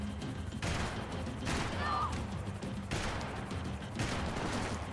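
Max Payne 3 gunfight: repeated gunshots and bursts of fire, fairly faint and diffuse, spread evenly across the stretch over a steady noisy background with no clear talking.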